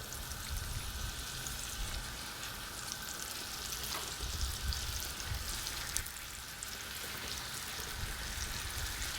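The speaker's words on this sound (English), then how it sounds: "we're going to saute these babies" Mushrooms sautéing in a small, crowded pan for classic beef bourguignon give off a steady, moderately loud broadband sizzle with faint stirring scrapes and no voices.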